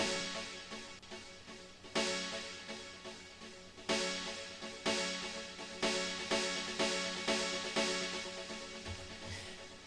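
Bright electronic stabs hit repeatedly in a regular rhythm, each decaying into a lush, washy reverb tail; no voices.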